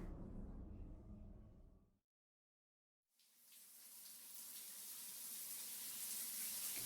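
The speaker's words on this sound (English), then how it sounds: "Steam and suds fill my vision as a pleasant torrent of hot water sprays across my body." In the video game Corpse Factory, a hot shower sprays steadily, faint at first, cutting to a second of silence, then returning as a loud, hissing torrent that builds and holds.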